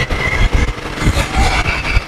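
A Royal Enfield Interceptor 650 motorcycle engine pulls hard under acceleration, a steady throbbing rumble with rising and falling surges heard from the rider's position over about two seconds.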